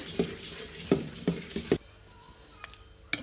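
Paddu batter, made from idli-dosa batter, hitting a hot oiled paddu pan, with several short sizzling bursts and faint stirring clinks close by, then quieter crackling.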